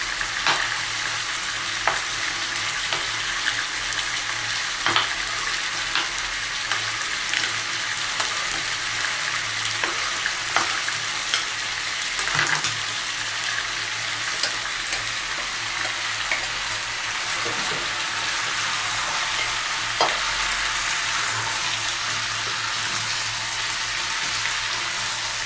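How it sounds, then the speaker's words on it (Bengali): Chicken stew ingredients frying and sizzling in a pan while being stirred, a steady close hiss broken by occasional scrape-like clicks of the spoon, with no voices. "ভালো করে নাড়িয়ে নাড়িয়ে এগুলো সব একসঙ্গে মিক্স করতে হবে।"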